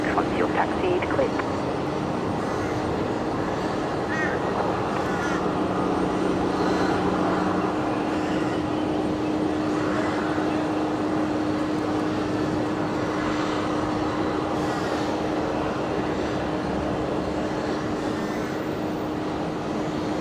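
Air New Zealand flight 273 from Wellington lands at Brisbane Airport, its engines a steady distant roar and rumble over the wind, while a voice talks over it.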